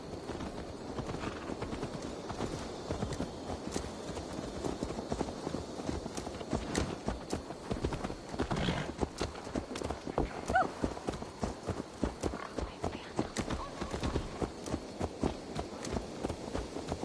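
Horse hooves clop steadily on hard ground in the Viking-era video game Assassin's Creed Valhalla, an unbroken walking rhythm heard fairly close throughout, with faint speech in the background.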